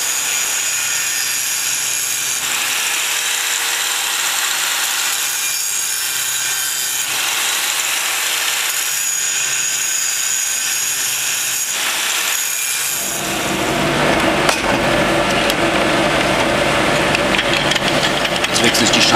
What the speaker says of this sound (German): Auch hier wieder die große Flex, weil das geht schneller.